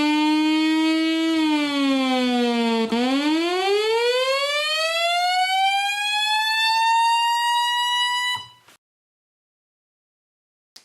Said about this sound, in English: as I turn the knob clockwise, you can hear increasing glide times